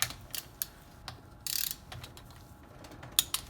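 A hand wrench ratchets in short bursts while tightening Banshee top-end bolts to torque spec, with quick close clicks and a few separate metallic taps and pauses.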